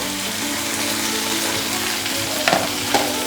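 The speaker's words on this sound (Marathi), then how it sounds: "आता आपण टोमॅटो आणि कांदा दोन्ही सोबतच टाकणार आहे मी" Tomato and onion frying together in hot oil in a pan for dal tadka, a steady close sizzle throughout with a couple of brief stirring clinks near the end.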